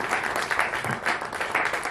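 A seated audience at an Itihas Katta history talk gives Dr Renuka Jain a brief round of clapping, a lively, even patter that stays moderately loud for two seconds.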